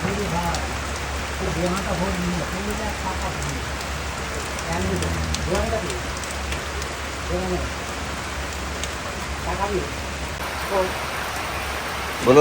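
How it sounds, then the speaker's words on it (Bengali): Steady rain hisses throughout on Char Kushahata, with a person talking over it for much of the time. "আকাশ জুড়ে মেঘ হলো বৃষ্টি নামলো"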